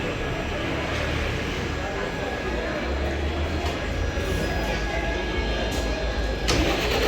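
A bus engine idles and rumbles at the Ilkal bus stand at night, a continuous loud drone with rising revs toward the end and background talk in the open station.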